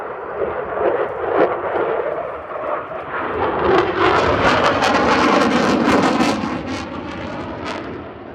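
A display jet at the 2024 Farnborough Airshow roars through a high-speed, hard-pulling turn, its loud engine noise swelling and rasping as it passes, with wind buffeting the microphone.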